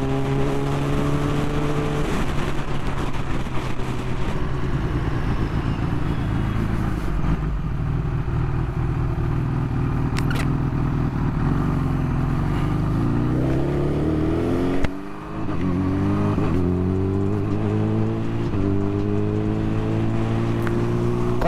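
A Kawasaki Ninja H2 Carbon fitted with a slip-on exhaust drones steadily through a long ride, engine pitch climbing and falling with gear changes, with a brief dip in the middle.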